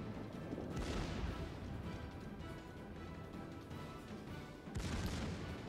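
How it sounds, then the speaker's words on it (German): Warship secondary guns firing in World of Warships as a Kaiser battleship engages: a dense rumble of repeated booming shots, with a louder burst of blasts near the end. "Da fangen auch sofort die Sekundären an zu schießen."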